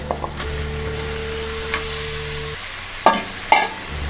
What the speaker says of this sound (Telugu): నేను చికెన్ యాడ్ చేసుకుంటాను దీనికి, ఫ్రెష్గా కడిగిన చికెన్ దీంట్లో.